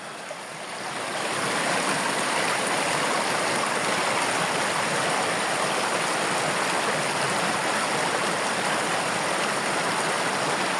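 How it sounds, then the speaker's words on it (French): Steady, loud rush of streams flowing near an abandoned hospice turned guesthouse, a continuous broadband water roar that swells in after the first second and holds without a break. "je vous laisse apprécier un peu les bruits des ruisseaux qu'on a ici"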